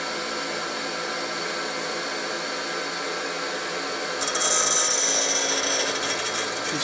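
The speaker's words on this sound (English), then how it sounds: "You can adjust the wheel pressure higher to cut more off aggressively." A Prosharp Ellipse sharpening wheel on an older AS2001 skate sharpening machine grinds steadily, a continuous bright hiss of the wheel against the blade that swells louder near the end.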